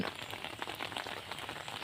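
Rain falls outdoors in the early morning before fishing lines are checked, a steady soft patter of drops on surfaces, faint and continuous with no talk.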